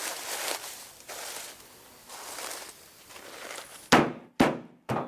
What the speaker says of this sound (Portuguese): espalhamos as sílicas em uma lona de plástico ou um tecido grosso, para depois bater ou esfregar com as mãos